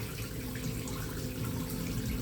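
Steady running water from a head spa hair wash, a continuous broadband rush with no voices, close and even throughout.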